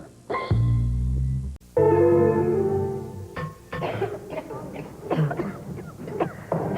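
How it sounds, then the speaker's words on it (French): Several harsh, close coughs come in bursts, mixed with throat clearing and a few short vocal sounds. "ont une méchante toux"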